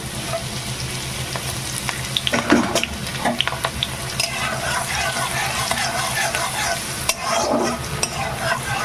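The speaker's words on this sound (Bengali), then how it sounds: "রসুনটাকে একটু ভেজে নিতে হবে" Garlic frying in hot oil in a wok, a continuous crackling sizzle with occasional scraping stirs and clinks of a spatula, close and steady throughout.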